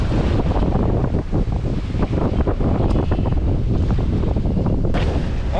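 Strong wind buffets the microphone while waves wash against the hull of a sailboat running under full sail in roughly 10 to 17 knots of wind, a loud, continuous roar with no voices.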